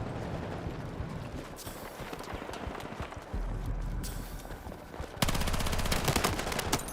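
Automatic gunfire in the video game Battlefield 6 comes in rapid rattling bursts, close and loud over busy battle noise, building to a denser sustained stream near the end.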